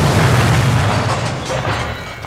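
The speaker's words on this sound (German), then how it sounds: "Da ertönte hoch oben im Innern des Hauses eine Explosion." An audio drama explosion high up inside a house rumbles as a loud, deep, sustained boom that slowly fades, with no voices.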